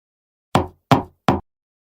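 Three firm knocks on a door in a staged role play, close and evenly spaced, each a sharp hollow thud that fades quickly, with silence before and between them.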